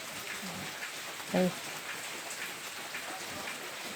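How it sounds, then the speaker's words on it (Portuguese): Heavy rain pours steadily in an even, continuous hiss, with a single brief spoken word near the middle. "quando a chuva engrossa"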